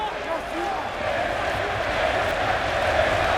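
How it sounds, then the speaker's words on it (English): A large arena crowd at a UFC fight at the O2 Arena roars for a home fighter in the fourth round. The cheering is a dense, sustained wash of noise that swells slightly and has no clear breaks. "The crowd getting behind their home fighter here at the O2 Arena."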